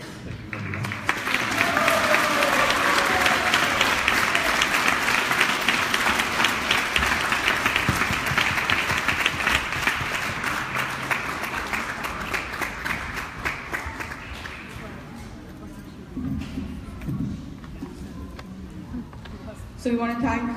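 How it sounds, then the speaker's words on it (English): A lecture audience in Toronto breaks into sustained applause after a class by Niranjan Swami, dense and loud at first and gradually thinning, with voices rising near the end. "Another round of applause"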